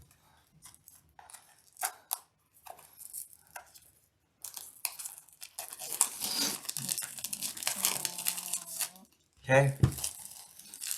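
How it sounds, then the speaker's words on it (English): A knife cutting and tearing open the cardboard and plastic wrap of a MetaZoo theme deck box, with scattered scrapes and taps, then longer bursts of ripping and crinkling, close up; a voice speaks briefly. "Guys, I found a knife to open these boxes with."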